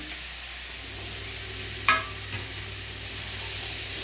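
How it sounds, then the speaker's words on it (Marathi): Chopped red pumpkin fries with a steady sizzle in hot tempering oil, with one sharp clink of a utensil near the middle and no voices. "फोडणीमध्येच आपण भोपळे चिरलेला घालून घेऊ"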